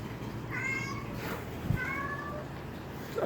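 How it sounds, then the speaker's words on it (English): Pet cats meow in a quiet room, two drawn-out calls about a second apart with a faint background hum, no talking over them. "That was my cats."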